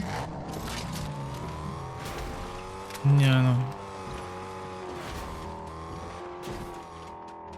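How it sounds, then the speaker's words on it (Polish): A car engine in Fortnite drones with a steady revving tone, then a short, loud whooshing roar of a nitro boost cuts in and falls away back to the hum, while a person speaks briefly over it. "Dobra, odpaliłem nitro na aucie."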